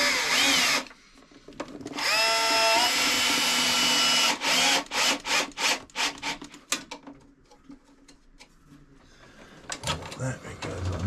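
A power driver runs screws into a cabin wall aboard a sailboat at a winter mooring, with long whirring bursts followed by a string of short choppy pulses and some rubbing, loud and close, while people talk briefly.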